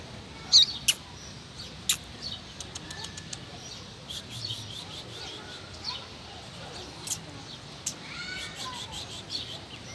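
A double-collared seedeater (coleiro) singing firmly, giving sharp, bright chirps and short whistled phrases scattered through the clip over a quiet outdoor background, with a few louder bursts near the start.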